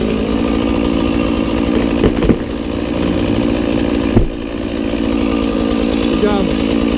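A chainsaw runs steadily through the cut while felling a hard back-leaning tree, the motor droning loud and close at part throttle with a couple of brief sharp knocks, and voices speaking over it.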